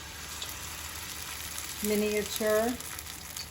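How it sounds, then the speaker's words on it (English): Homemade potato pancakes (latkes) sizzle steadily in a frying pan, a soft continuous crackle running under a woman's brief spoken remarks. "That's the sizzle."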